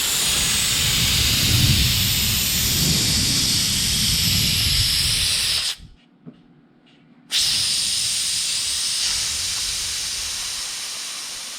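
Loud, steady hiss of compressed air venting from the open drain valve of a quiet California Air Tools compressor tank, cutting out abruptly for about a second before the rushing blast resumes and slowly tapers.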